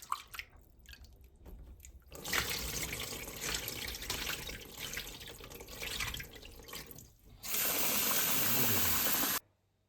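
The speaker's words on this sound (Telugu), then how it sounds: "గిన్నెలో నీళ్ళు తీసుకొని రైస్ చేసుకునేదాన్ని ప్రిపేర్ చేస్తున్నాం" Tap water pours steadily into a cooking pot for basmati rice ahead of a Hyderabad-style chicken dum biryani, a loud broadband rush that swells near the end and then cuts off abruptly, with no talking.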